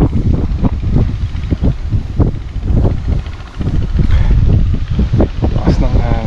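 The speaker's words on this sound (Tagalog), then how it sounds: "Lakas ng hangin." Strong wind gusts buffet the microphone in an open vegetable field planted with tomatoes and string beans, a loud uneven roar with rustling and low thumps, while someone speaks over it.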